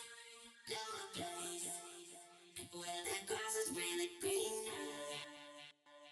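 Synthesized, robotic vocal chords with a vocoder-like buzzy harmonic texture, sustained and shifting in pitch, playing alone without speech.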